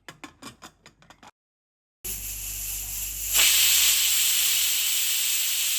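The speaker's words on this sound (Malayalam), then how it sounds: "കുക്കറിലോട് ചേർത്ത് ആവശ്യത്തിന് കല്ലുപ്പും ഇച്ചിരി മഞ്ഞപ്പൊടിയും ഇച്ചിരി വെള്ളം ഒഴിച്ച് ഒറ്റ വിസിൽ മതി" A pressure cooker holding tapioca with rock salt, turmeric and a little water releases steam in a loud, steady hiss that starts abruptly after a brief pause and intensifies partway through, with no talk over it.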